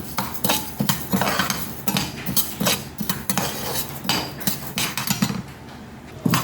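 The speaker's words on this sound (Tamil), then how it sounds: "பாசிப்பருப்பு வறுத்துக்கலாம்" Moong dal being dry-roasted and stirred in a pan, heard as steady scraping and clinking of a utensil against metal, with repeated close stirring strokes and faint sizzling throughout.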